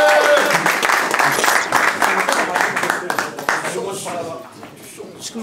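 An audience claps and applauds at a live French stand-up comedy show, a dense, loud burst of hands that gradually thins and fades toward the end.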